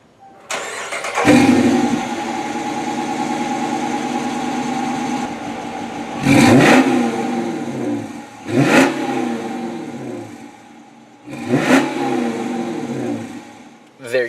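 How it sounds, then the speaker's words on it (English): A 2015 Dodge Challenger R/T V8 starts up with a loud bark and settles into a steady rumbling idle. Three sharp throttle blips follow, each rising and falling quickly. The exhaust is heard close and alone, with no talk over it. "I'll go ahead and do a quick startup so you could hear the exhaust a little bit"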